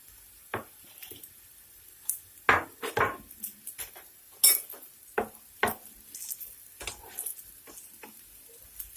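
Fried eggplant pieces are lifted out of hot oil with a utensil, giving a string of sharp clinks and scrapes against the pot over a faint sizzle, while meat cooks nearby for maklube.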